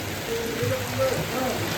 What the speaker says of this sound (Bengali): হট করে আবার বৃষ্টি শুরু হয়ে গেল